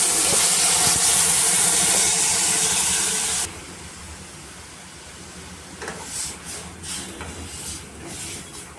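Tempering (phodni) for shepu bhaji, with garlic, chili and turmeric, gives a loud, steady hissing sizzle for about three and a half seconds. It then cuts off abruptly to a quiet background with a few faint crackles.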